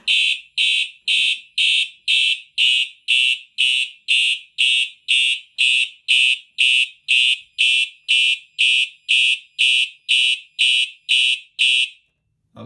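Fire alarm system sounding during a test, a loud electronic horn blaring in rapid regular bursts, about twenty evenly spaced pulses, alone without talk, then abruptly silenced.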